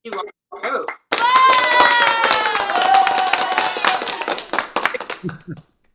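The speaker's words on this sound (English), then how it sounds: "I like the applause soundtrack." Recorded applause sound effect played during a live podcast interview: a burst of many hands clapping, loud and sustained for several seconds, with voices talking briefly before and after.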